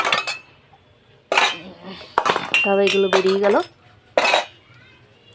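Pots and steel dishes clatter and clink as they are gathered up in a home kitchen, several loud close bursts of metal knocks and one ringing scrape, with someone speaking briefly between them.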